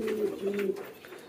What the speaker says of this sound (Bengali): সুন্দর লাগে সকালে যখন ছেড়ে দেয়, তখন অনেক বেশি ডাকাডাকি করে কবুতরগুলা।